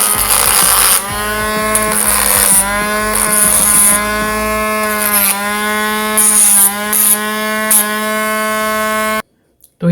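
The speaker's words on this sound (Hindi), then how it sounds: "मैं इसको ग्राइंडिंग करता हूँ।" A rotary tool fitted with a silicon carbide grinding head grinds a cut screw, giving a sustained high-pitched motor whine broken by repeated harsh, scratchy bursts where the head bites the metal.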